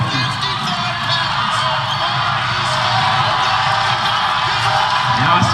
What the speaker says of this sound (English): I can just hear the crowd screaming.